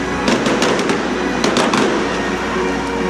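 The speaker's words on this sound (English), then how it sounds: "No rhyme or reason to the shape, but beautiful colors and big old bangs." Fireworks burst high in the sky over Tampa with big booming bangs, several sharp reports in quick clusters over a continuous crackling rumble, loud and fairly close.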